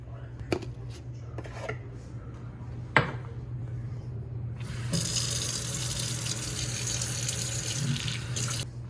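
A few sharp clinks of kitchenware, then a tap turns on and water runs steadily into a dessert batter mix, close and fairly loud, for several seconds.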